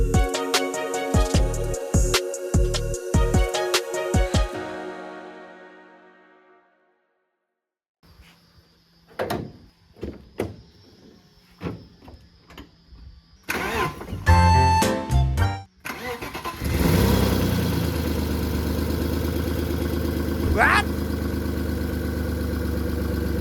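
A motor is started after a fuel leak repair, cranking briefly and then catching into a loud, steady idle, preceded by clicks and handling sounds.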